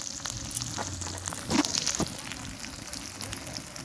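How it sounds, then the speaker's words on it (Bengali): Cut potatoes dropped into hot oil sizzle and fry steadily at close range, with a few brief sharper bursts partway through. "তো এবার আমি তেলের মধ্যে দিয়ে দিচ্ছি কেটে রাখা আলুগুলো।"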